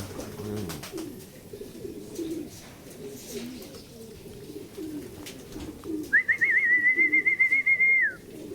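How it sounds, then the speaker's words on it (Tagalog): Pigeons on a roof give low, soft cooing throughout, with a clear whistling tone rising near the end over faint background noise. "Ito mga kalapatids, hindi sa atin to."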